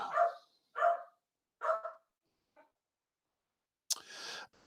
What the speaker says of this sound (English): as the dog is going nuts